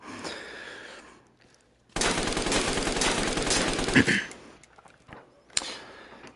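Assault rifle firing in a VR gun range game: a short burst, then a sustained loud stream of rapid automatic fire lasting about two seconds, followed by clatter and one more brief shot near the end.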